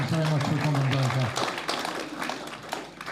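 Audience applause for a singer at a festival launch night, a crowd's dense clapping rising after a sung or spoken phrase fades at the start, holding steady and fairly close for a few seconds.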